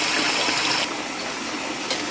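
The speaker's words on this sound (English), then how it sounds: "And I just leave the water running." Cold tap water runs steadily from a kitchen faucet, a loud, close, continuous gushing rush that eases slightly partway through.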